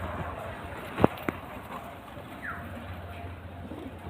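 Giribaz pigeons at a roadside pigeon sale at Boro Dighar Mor give a few soft coos over a steady market background, with two brief sharper calls near the start and a faint later call.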